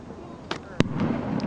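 Fourth of July fireworks going off in the sky, a couple of short distant bangs and crackles over outdoor ambience with people talking nearby.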